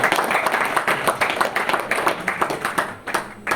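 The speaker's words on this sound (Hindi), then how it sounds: "तालियां बजा दीजिए फिर से उनके लिए" Audience in a Hindi-language health talk claps together, a dense, steady burst of applause filling the room with rapid overlapping hand claps, loud and continuous for a few seconds with no voice over it.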